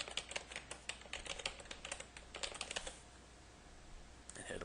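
A password typed on a computer keyboard, a quick run of crisp, close key clicks for about three seconds, then quiet, with a couple of final taps at the end.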